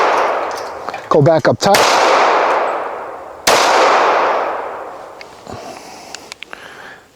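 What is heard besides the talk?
Springfield Armory TRP 1911 .45 ACP pistol firing a magazine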